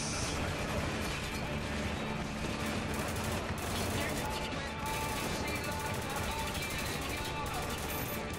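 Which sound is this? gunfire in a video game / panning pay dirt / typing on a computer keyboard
gunfire in a video game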